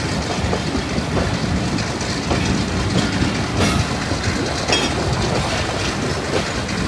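The rerouted Mianwali Express rolls along the Lalamusa shortcut branch line, a loud, unbroken rumble of wheels with faint rhythmic clickety-clack and occasional higher squeals throughout.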